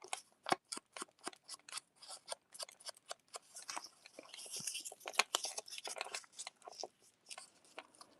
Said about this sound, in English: So here again, I'm crumpling up.